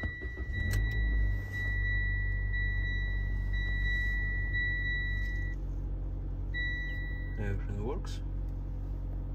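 Low, steady idle of a 2007-2012 Mitsubishi Outlander engine running close by, with a constant chime beeping over it and a voice speaking briefly near the end.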